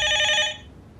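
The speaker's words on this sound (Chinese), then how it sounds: "电话突然响了起来" A telephone bell rings in a bright, loud electronic trill for about half a second, then cuts off, leaving only a quiet room hum.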